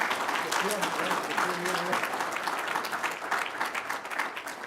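At a research showcase plenary session, an audience gives a steady round of applause that holds at an even level, with a voice briefly speaking over it.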